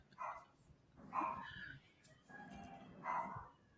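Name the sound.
dog barking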